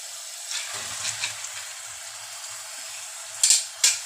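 Moongre (radish pods) go into a hot pan of ghee-fried spice masala with potatoes, a soft sizzle with a few light stirring scrapes, then two sharp bursts of crackling near the end, close by.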